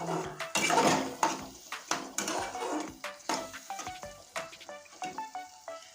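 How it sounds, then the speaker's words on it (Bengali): Mango chutney with sugar frying in a pan, a soft sizzle with repeated scraping and clinking of a utensil stirring against the metal, close and fairly quiet, the stirring strokes coming in a loose rhythm toward the end. "আমের চাটনিটা ভাজতে ভাজতে একদম পুরোটাই গলে গিয়েছে"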